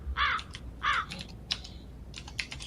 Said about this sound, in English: Is he typing?